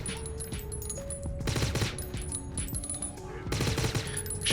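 In the rogue-like FPS Sulfur, two rapid, sustained bursts of automatic gunfire empty a magazine at an enemy, with the shots loud and close over game music and ambience.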